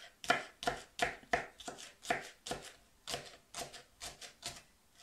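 A knife cuts through the base of a green onion stalk on a board in a dozen or so crisp, evenly paced chops, close and fairly quiet, with no talk.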